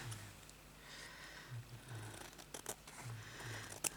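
Paper is cut with scissors in a craft session making an envelope, with several quiet, close snips spaced through the clip and a few soft rustles and handling sounds between them.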